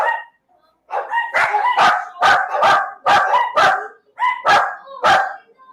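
Several dogs bark in a loud, close burst of repeated sharp woofs, about eight barks in quick uneven rhythm after a short pause, with no talking over them.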